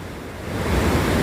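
The Ganga at Nashik, swollen with water released from the Gangapur dam during monsoon rain, rushes past in a steady, loud, close roar of churning water, with no voices.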